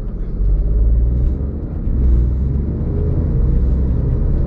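A SEAT Arona FR accelerates in sports mode on a wet road at partial throttle, its engine rumble loud, steady and close inside the cabin as it pulls continuously, with no talking.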